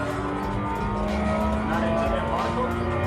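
A Porsche on a track at the Porsche Experience Center Atlanta brakes hard, its engine note sinking under a steady loud in-car rumble with faint tire noise, while people talk throughout.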